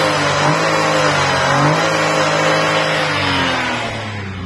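A 2024 Renault Triber engine revs up loudly nearby, unrefined in sound, rising and falling in pitch a couple of times before settling back toward idle.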